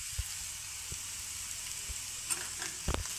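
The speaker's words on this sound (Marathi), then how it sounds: "मिक्स करून घेऊ." Masala okra with crushed peanuts sizzles steadily in a frying pan, with a soft hiss throughout and a few faint scrapes and clinks of stirring close by, no voices.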